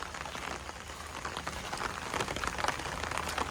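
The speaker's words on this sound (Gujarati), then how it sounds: "વરસાદ ચાલુ છે" Steady rain pattering on a surface, dense and continuous with scattered drops standing out, no voices.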